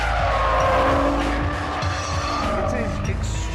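Nissan GT-R tyres squeal and scrub under hard, fast cornering, a loud sustained screech over a steady engine roar, with a voice speaking over the top.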